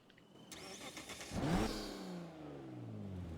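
In the racing game NFS Unbound, a GTR's engine starts up with a quick crank and a rising rev, then settles into a lower, moderately loud idle hum.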